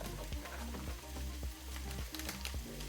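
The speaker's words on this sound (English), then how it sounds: "I'm also going to go ahead and add my pre-cooked bacon in here just to soften it a little bit." Pre-cooked bacon sizzling in a pan with a steady crackling fry, soft stirring scrapes tapping through it at a regular pace.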